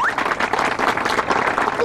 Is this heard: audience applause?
yes